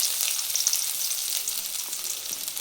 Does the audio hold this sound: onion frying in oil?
yes